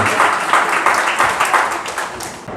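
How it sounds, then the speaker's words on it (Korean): Applause from guests at a dance party celebration, a steady dense patter of clapping filling the room, fairly loud with a faint voice beneath. "호응할 때 여러분 박수 부탁드리겠습니다."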